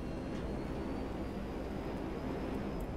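A jet in GTA Online drones past as a steady, low, rumbling roar with a broad hiss on top, holding constant and fairly distant with no voices.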